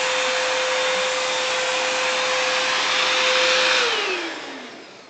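A household vacuum cleaner runs with a steady, loud motor whine, then its pitch drops as it winds down near the end.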